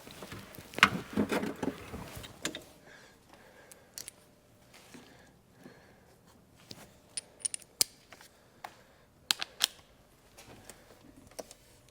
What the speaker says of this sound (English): take these two 10mm nuts off for the ground straps